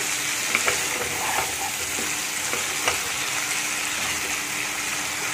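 Punjabi restaurant-style kabuli chickpea masala gravy sizzles in released oil in a pan, a constant close frying hiss with a few soft clicks from stirring.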